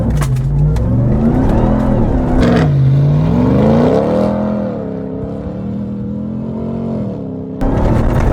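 A 2021 RAM TRX truck in Baja mode accelerates hard: a loud, close engine roar climbs and sweeps in pitch through the gears, then eases to a lower steady drone before surging again.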